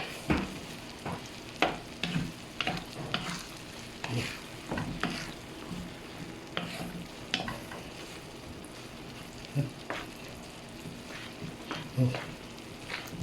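Spicy goat brain masala fries in a pan with a low steady sizzle, while a spoon scrapes and stirs in frequent irregular clacks, close up.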